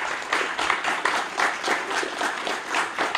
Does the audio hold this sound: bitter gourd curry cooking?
no